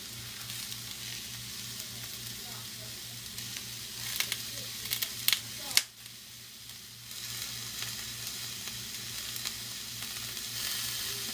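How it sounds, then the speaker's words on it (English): Vegetables sizzle steadily in a hot pan, with scattered sharp pops and crackles over a low background hum. "I hear them popping in the background."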